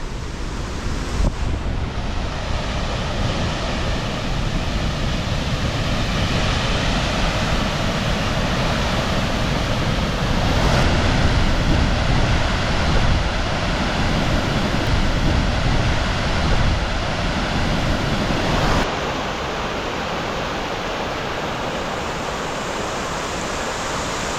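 Iris Falls on the Bechler River in Yellowstone National Park, a continuous loud rushing roar of falling water that holds steady, then drops somewhat in level near the end.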